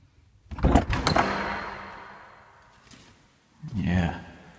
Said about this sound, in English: Now the second door makes a really cool sound.